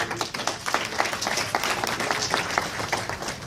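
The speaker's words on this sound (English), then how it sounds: "You applauded before you even heard anything." A studio audience claps and applauds at the start of a comedy show, with dense, steady clapping that stays moderately loud and fairly close throughout.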